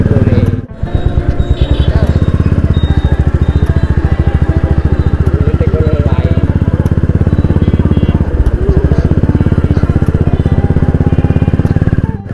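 A 350cc Royal Enfield Bullet motorcycle with a changed silencer runs steadily close by, its loud, deep engine thumping in an even rhythm for the whole stretch with a short dip near the start.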